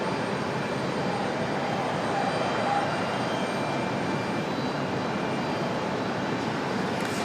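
An American Airlines Airbus A320, 24 years old, arrives at Raleigh-Durham from Charlotte, its jet engines a steady, moderately loud broadband roar without a break.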